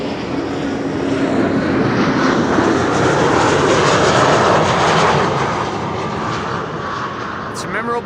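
Embraer 190 jet taxiing toward the Kaagbaan runway at Amsterdam Schiphol Airport, giving a loud, broad, steady engine roar that swells and eases slightly, with a commentator talking over it.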